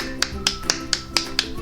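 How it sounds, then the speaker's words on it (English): Sharp hand claps ring out seven times at an even, quick pace, close and crisp over a quiet room hum. "If I just start clapping,"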